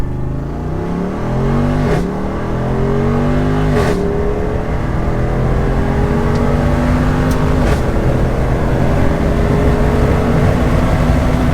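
A Jeep Wrangler 392 accelerates hard, its loud, close engine climbing in pitch through several quick gear shifts in the first seconds, then holding a strong, rising roar through to the end.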